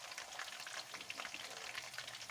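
Onions and chicken fry in a pot for chicken pulao, giving a faint, continuous crackling sizzle with no voices.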